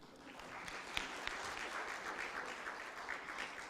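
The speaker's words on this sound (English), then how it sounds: "Feel free to give me a round of applause" A room full of people gives a round of applause after a talk, the clapping faint and distant but steady throughout, with a couple of sharper individual claps near the start.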